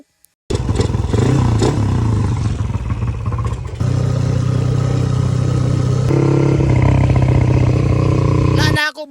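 A Raider motorcycle with a modified exhaust runs steadily and loud, its engine note shifting pitch partway through as the throttle changes, continuing for about eight seconds before cutting off.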